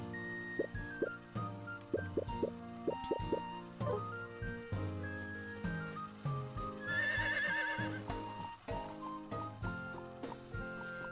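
Horse riding in Harvest Moon: The Winds of Anthos, a steady game soundtrack of plucked notes with a neigh and whinny rising partway through, over looping music.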